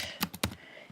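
Three quick keystrokes tapped on a computer keyboard while entering a name, close and crisp, followed by a faint fourth tap in a quiet room.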